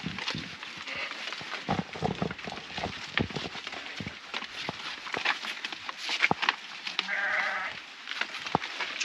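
Ewes in a sheep pen bleat repeatedly at close range, scattered calls over shuffling hooves and rustling, with one longer bleat standing out near the end.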